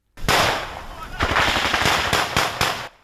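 Gunfire from soldiers fighting Russian forces in a suburb near Kyiv: loud, close bursts of rapid automatic fire with sharp individual cracks, several rounds in quick succession over a few seconds.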